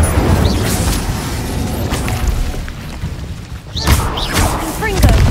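Incendio fire spell cast in the Hogwarts Legacy video game: a run of booming, roaring bursts over continuous rumble, with loud swells near the middle and end and a voice shouting spell names among them.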